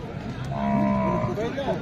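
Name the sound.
bull at a cattle market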